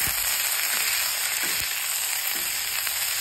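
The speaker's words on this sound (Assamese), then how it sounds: "আৰু এতিয়া খুব ধুনীয়াকৈ লৰাই দিম" Jackfruit fry with salt and turmeric is stirred in a hot pan, giving a loud, steady close-up sizzle with faint scraping stir strokes throughout and no talking.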